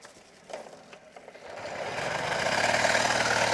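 A 1975 Mobylette moped engine is pedal-started with the choke on: a few faint knocks and sputters, then the engine catches and rises into a steady buzzing run that grows louder.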